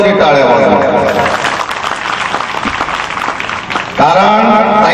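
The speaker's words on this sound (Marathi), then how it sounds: "तिच्यासाठी खरंच काहीतरी आपण तिचं ऋण फेडावं म्हणून तरी टाळ्या वाजवा." Applause fills a hall at a women's Buddhist religious conference in Umarkhed, Yavatmal, dense clapping for a few seconds, with a voice speaking before and after.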